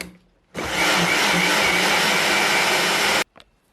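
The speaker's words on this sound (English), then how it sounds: "we are going to blend our mixture" A blender whirs a grape smoothie mixture, starting abruptly into a loud, steady, close roar that holds for nearly three seconds and then cuts off, with no voices.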